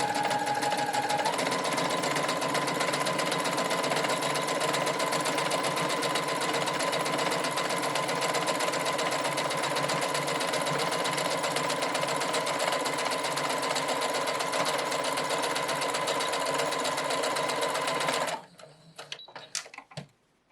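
A sewing machine stitches an embroidered pillow in one continuous fast whirring run for about eighteen seconds, close and steady, then stops abruptly with a few light mechanical clicks.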